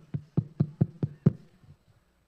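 Six firm knocks in a quick, fairly even series, close and solid-sounding like knuckles on a wooden door, followed by faint quiet.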